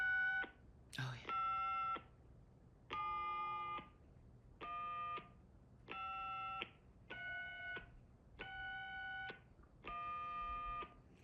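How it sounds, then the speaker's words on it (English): A series of eight evenly spaced multi-tone dialing bursts, each about half a second, separated by short gaps, fairly clear over a low background hum. "That person is dialing so slow."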